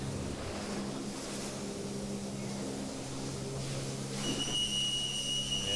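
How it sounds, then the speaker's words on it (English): A steady whistle tone is blown late in a flyboard competition on open water, sounding over the continuous drone of a motorboat or jet engine. "And there's the whistle."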